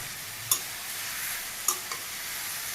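Dry rice grains roasting in a pan in a Bangladeshi village kitchen, stirred with sparse scraping strokes: two or three brief clicks and rasps over a steady low sizzle.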